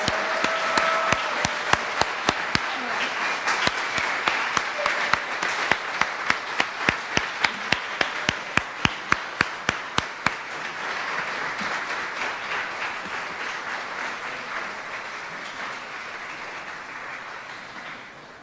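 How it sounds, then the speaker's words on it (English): A large audience at the Inspirada Awards ceremony applauds nominees and honorees in one long, dense round, with a few sharp, louder claps standing out early on before the applause steadily fades. "can we just give one big round of applause to all our nominees and honorees?"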